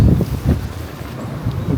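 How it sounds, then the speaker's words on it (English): Strong wind buffeting a microphone at the top of the keep of Imabari Castle, Japan, a loud continuous rumbling whoosh with gusty low thumps. "So windy actually."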